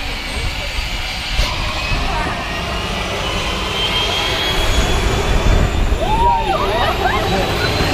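Airplane engine droning loudly and steadily before a skydiving jump, a continuous roar that fills the scene while people talk over it.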